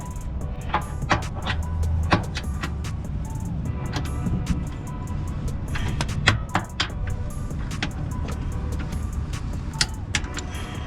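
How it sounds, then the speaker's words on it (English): Torque wrench tightening wheel bolts on a 2023 GR Corolla, a series of sharp metallic clicks and taps spaced irregularly over a low background hum, close and moderately loud. "So now let's do 32. So I got my torque wrench already set up."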